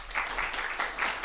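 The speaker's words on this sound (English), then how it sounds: "You really don't need to clap." An audience at an art park forum on graffiti and education claps briefly, a soft, even wash of applause with gentle swells, heard alone.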